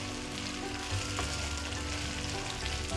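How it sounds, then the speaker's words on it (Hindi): Okra (bhindi) frying in a pan gives a steady, close sizzle with a faint stirring scrape now and then, holding even through the whole stretch with no talking. "सारी भिंडी डाल देते हैं हम इसमें। और इसको तब तक हम फ्राई करेंगे जब तक इसके अंदर लेस है।"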